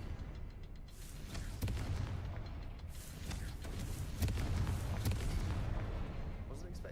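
A Confringo spell explosion in the video game Hogwarts Legacy: a dense, rumbling blast with several sharp cracks over a continuous roar of game sound.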